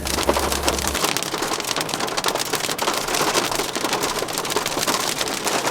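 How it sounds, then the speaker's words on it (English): Heavy rain and hail pelt down in a thunderstorm in the backcountry of western Colorado or southern Utah, a dense, steady hiss of drops and ice striking surfaces close by, with no voices. "It started thundering and lightning like crazy, and now it is hailing."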